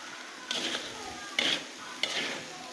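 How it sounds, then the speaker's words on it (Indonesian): Genjer flowers being stirred with spices in a pan, a soft continuous sizzle broken by three brief scraping stirs of a utensil, close but fairly quiet. "Kita aduk rata biar bumbunya meresap, tercampur dengan genjernya semua."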